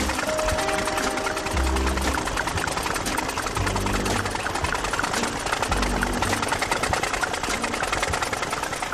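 A small moped engine runs with a rapid, buzzy, rattling chatter, loud and close, its pitch bobbing as it revs up and down, with no talking.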